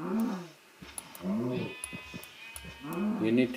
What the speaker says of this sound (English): I think I hurt the sheep.